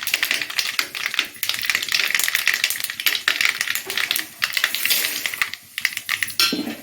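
Mustard seeds spluttering in hot oil for mango rice make rapid, dense crackling pops, a close and busy patter of sharp snaps that rises and dips in bursts.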